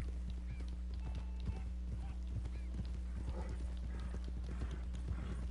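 Red Dead Redemption 2 video game: steady clip-clop of horse hooves at a walking pace over a constant low hum, with a soft whinny heard faintly.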